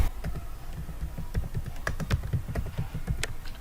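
Keystrokes on a computer keyboard while typing into a Windows 11 search box, a quick irregular run of close, crisp clicks alone without speech.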